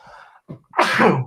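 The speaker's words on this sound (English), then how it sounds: "I'm going to sneeze." A single loud, close sneeze bursts out after a sharp intake of breath, with brief talk just before it.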